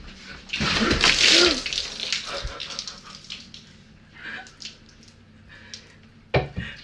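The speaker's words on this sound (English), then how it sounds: "there's water coming out of the bathroom" Water runs out of a bathroom, a steady hissing flow that swells loud early on, then fades to a softer trickle with a few splashy bursts and brief movement noises.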